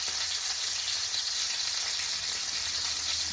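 Steak frying in a pan gives a steady, close hiss of sizzling with no break or talk, even and unbroken for a few seconds.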